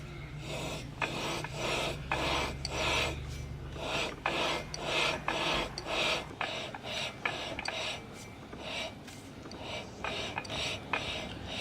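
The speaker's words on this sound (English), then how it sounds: "Sort of move the flywheel around into different positions as you're lapping it in." A go-kart flywheel being lapped by hand onto its crankshaft taper gives a steady gritty rasping, a rhythmic series of short grinding strokes repeated close up for the whole stretch.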